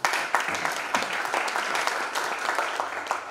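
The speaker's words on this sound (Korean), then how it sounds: "박수 부탁드립니다" A crowd applauds steadily for the whole stretch at a seminar in the National Assembly Members' Office Building, a dense wash of many hands clapping at once, with a few brief louder bursts and no talking.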